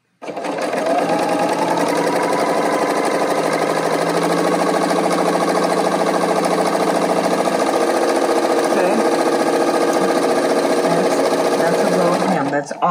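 A Baby Lock L890 serger stitching a rolled hem runs at steady high speed, a continuous loud mechanical whir and rapid clatter that holds evenly for about twelve seconds, then stops.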